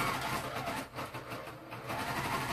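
A sewing machine stitches pillowcase fabric in a quick, steady mechanical run with rhythmic pulsing, close up and without talk.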